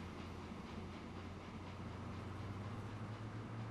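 An Alco locomotive runs in the Transport Fever railway game, producing a steady, low engine rumble with a faint rail rhythm that stays even and continuous throughout, with no voice over it.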